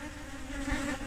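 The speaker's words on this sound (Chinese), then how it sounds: "现在太多蜜蜂来了" Many honeybees buzz around a hive during queen rearing, a dense, close, continuous hum that stays loud and unbroken.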